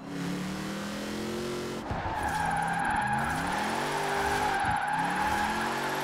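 Car drifting in Forza Horizon 4, a Rossion Q1 with rear-wheel drive, its engine droning steadily while tires squeal in long wavering skids that repeat through the clip.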